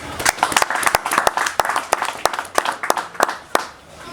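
An audience at a Congolese diplomatic gathering claps for a cabinet director, with sharp individual claps ringing out distinctly and unevenly over a thinner layer of applause, fading toward the end.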